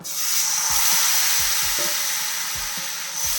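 Appam batter hits a hot pan and sizzles in a steady, close frying hiss, with faint soft taps of a utensil underneath.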